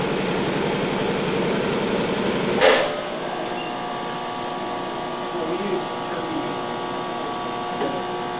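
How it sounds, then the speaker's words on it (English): A vacuum pump runs steadily in the beam room of the JPL Dynamitron nuclear particle accelerator, a dense mechanical hum with a rapid pulsing rattle at first, then a smoother drone after a brief clunk, close and continuous. "Vacuum pump."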